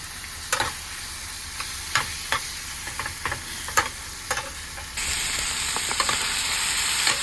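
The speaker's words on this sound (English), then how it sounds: "So we're sizzling away." Steak, rice and tomatoes sizzling in a hot pan inside a van, with occasional scraping stirs, the sizzle growing louder and steadier partway through, no voices.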